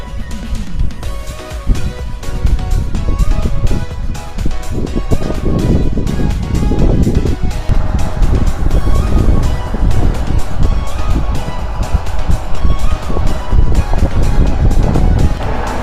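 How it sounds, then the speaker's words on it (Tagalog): The MV Nathan passenger ferry crosses open sea toward Siargao, with a steady, loud rush of wind buffeting the microphone over churning waves and a low engine rumble, continuous throughout. "So MV Nathan Ferry yung sakyan natin mga kalaban."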